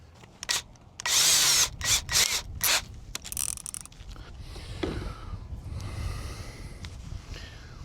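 Hand drilling with a 3/32 drill bit to make a hole for a 3/32 tension pin in a shaft on a DIY sonar mount, giving a few loud, rasping bursts that fade into quieter scraping and rubbing.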